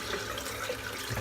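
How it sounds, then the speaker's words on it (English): Tap water runs steadily for about a second as a shaving brush is rinsed under a bathroom faucet after lathering soap, a close, continuous splashing hiss that swells slightly at the end. "And then I can rinse off the brush."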